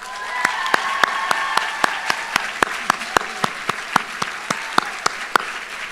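A modest crowd claps steadily for an award recipient at a nursing graduation ceremony, a sparse, even rhythm of distinct individual claps with no talking.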